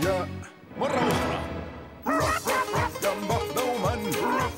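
A cartoon robot dog barks in a rapid series of loud, sharp yips and bow-wows, with sung vocals running alongside and a brief thud before the barking resumes.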